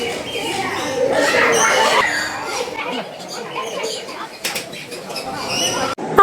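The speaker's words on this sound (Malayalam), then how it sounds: "അവരുടെ ഒച്ചപ്പാടൊക്കെ കേൾക്കുമ്പോൾ നല്ല രസമുണ്ട്" Exotic birds at the Areekal bird park in Kerala calling and chattering continuously, a lively mix of squawks and coos close by, with people's voices and background bustle throughout.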